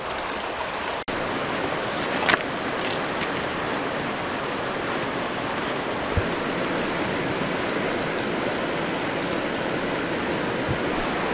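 Stream water flowing strongly and deep beside a waterfall at an outdoor Earthcache site with conglomerate rock, a steady close broadband rush that holds evenly throughout without a break.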